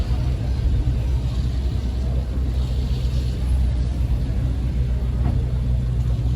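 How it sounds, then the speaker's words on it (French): A Ferrari F8 Spider engine rumbling low and close, a steady deep drone with a slight rise as the car draws near on a Monaco street. "F8 Spider qui arrive."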